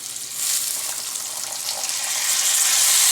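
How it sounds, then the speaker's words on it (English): A bright, steady hiss of a few tablespoons of water hitting a hot pan of potatoes and salt, sizzling loudly and building slightly over a few seconds. "We'll add few tablespoons of water"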